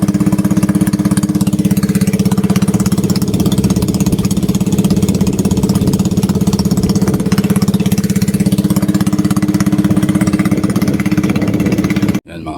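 A steady, loud boat motor drones without pause for the whole stretch, then cuts off abruptly at the very end.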